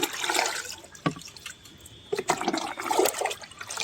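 Water splashes and pours into a bucket of liquid fertilizer for a terrace garden, in close, uneven bursts of gurgling and trickling with brief pauses between them.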